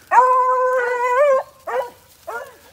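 Hunting dogs on a rabbit chase give a long, drawn-out howl followed by two shorter baying calls, loud and close with no talking.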